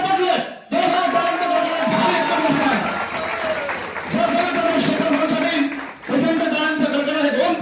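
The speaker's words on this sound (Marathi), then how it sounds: "प्रचंड टाळ्यांचा कडकडाट" Audience at an award ceremony closing a drama festival claps in loud, sustained applause from a large crowd, with a speaker's voice over a PA heard over the clapping throughout.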